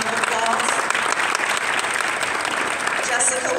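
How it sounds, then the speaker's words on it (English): A luncheon keynote audience breaks into steady, dense applause that fills the room throughout, with no pauses. "Big round of applause."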